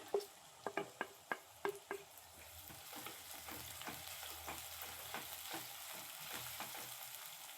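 Chillies and coriander leaves frying in hot oil for mango chitranna, steady crackling sizzle with a run of sharp pops and spatters at the start, close and fairly quiet.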